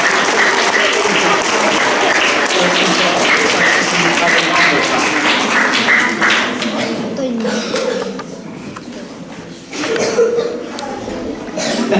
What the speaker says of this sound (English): Can we give Felix a nice round of applause?